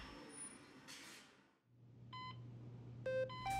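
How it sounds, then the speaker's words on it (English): Patient monitor alarm in a virtual reality clinical scene, a few faint, quick electronic beep tones sounding over a low hum and soft background noise, with no voices. "Let's quiet that alarm for you."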